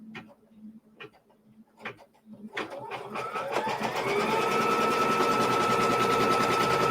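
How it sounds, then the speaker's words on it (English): A sewing machine stitches down a flipped fabric corner on a quilt block, starting after a few soft handling taps and then running as a loud, steady, continuous whir through the second half. "And now I'm going to flip this corner. And stitch that down."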